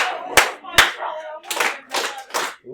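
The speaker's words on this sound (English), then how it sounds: "you guys are getting better at the claps" A class of students claps in an uneven rhythm, a few sharp unison claps followed by looser bursts of scattered clapping. Chatter from the room runs underneath.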